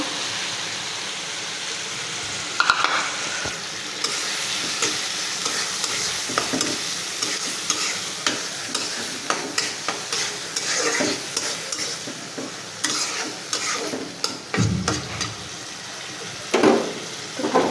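Soaked lentils tipped into a hot pan and stirred, a continuous sizzle broken by repeated scraping and knocking of a spoon against the pan, close and fairly loud, with no talk.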